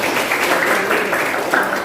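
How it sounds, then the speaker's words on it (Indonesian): A classroom of students claps for a classmate in a brief, dense burst of applause, close and loud, lasting under two seconds. "Oke, tepuk tangan dong buat Alivia."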